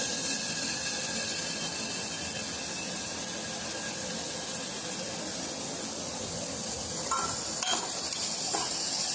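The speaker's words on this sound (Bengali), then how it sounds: "এটাকেও একটু হালকা করে ভেজে নেব যাতে কোনো গন্ধ না থাকে কাঁচা।" Vegetables, added after tomato, fry lightly in a pan with a steady broadband sizzle and occasional stirring scrapes near the end, continuous and fairly close, with no talking.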